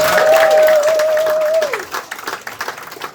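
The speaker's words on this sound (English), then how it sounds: "good round of applause" Applause from a stand-up comedy audience rises loud at first and then thins into scattered claps as it fades. A steady tone runs under it before dropping away.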